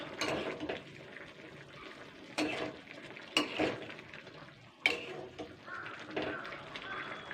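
Spice mix is stirred into a drumstick curry in a pan: a spoon scrapes and clinks against the metal in several sharp strokes, with soft wet shuffling between them and quiet room noise.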